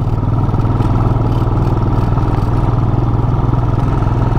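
A motorcycle threading through congested traffic on a road under construction on the high-altitude route to Khardung La, its engine a steady, loud, close drone with a rapid pulsing throb that never lets up.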